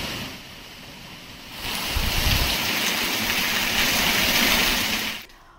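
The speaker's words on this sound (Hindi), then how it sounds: "उत्तरकाशी में भीषण गर्मी से सूख चुकी खुरमोला नदी सोमवार को 1 घंटे की तेज बारिश से उफान मारने लग गई" The Khurmola river in Uttarkashi, swollen after an hour of heavy rain, roars in a loud, continuous rush that swells sharply partway through, then cuts off abruptly near the end.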